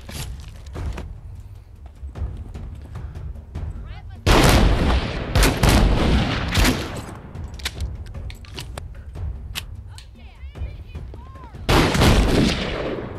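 Shotgun blasts ring out in the VR zombie game The Walking Dead: Saints & Sinners, several loud, sharp shots in irregular bursts with clattering mechanical handling between them.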